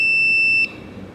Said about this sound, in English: You can see over here there's an LED and buzzer.